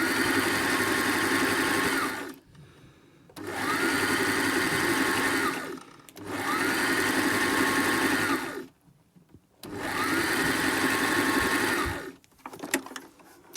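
Sewing machine zigzag-stitching along a fabric edge, four sustained bursts of fast whirring needle motor, each a couple of seconds long, separated by brief pauses and ending with a few light clicks.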